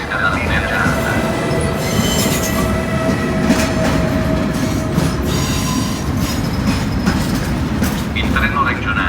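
A Trenitalia Frecciargento high-speed train pulls in at a station platform, a loud steady rumble with squealing wheels and clicking rail joints, while a platform announcement plays over it.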